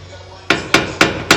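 Hammer blows on a worn, grease-leaking suspension part of a 2019 Toyota 4Runner during a lift kit install, four sharp metallic strikes in quick, steady succession, close and loud.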